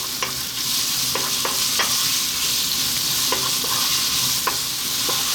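Onions, garlic and ginger stir-fry in a pan over medium-high heat, a steady close sizzle broken by repeated scraping taps of a utensil as they are kept moving.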